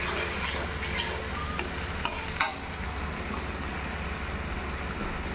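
Ginger, garlic, tomato and green chili paste frying in a pan for pork curry, a steady soft sizzle with faint stirring and a couple of brief scrapes, no talking.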